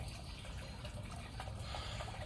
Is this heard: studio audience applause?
no